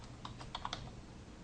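Quick, light keystrokes tap on a computer keyboard, a short burst of a few clicks heard close by over a soft background hum.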